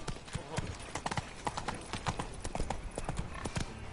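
Roach, Geralt's horse in the video game The Witcher 3: Wild Hunt, trots with brisk, rhythmic clip-clopping hooves, close and clear, with some voice overlapping.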